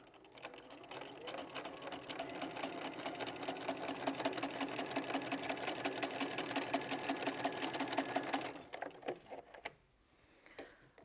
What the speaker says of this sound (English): So I'm just going to go to the machine now and sew down that line